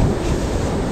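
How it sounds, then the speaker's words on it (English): Strong wind blowing along the shore of the tidal basin, a loud, steady broadband roar buffeting the microphone, with wave wash blended in and no voices. "wind is really kicking up now"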